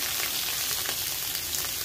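Vegetables fry in hot oil with panch phoron and ginger-garlic paste for a Bengali radish curry, giving a dense, steady sizzle close by with no talking.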